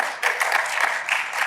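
A live show crowd at PAX East 2024 votes with applause, a short dense burst of clapping from many hands in a large hall, loud and steady without talk.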